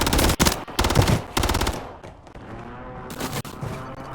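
Automatic gunfire in Call of Duty: Warzone, several rapid bursts of loud close shots with brief gaps, then quieter lingering echoes and another burst near the end.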